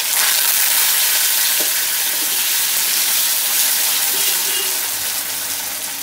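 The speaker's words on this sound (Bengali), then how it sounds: "প্রথমেই আমি আলুগুলোকে ভেজে নেব।" Potatoes fry in hot oil seasoned with dried red chillies and black cumin, giving a loud, continuous, close sizzle that holds steady throughout with no talking.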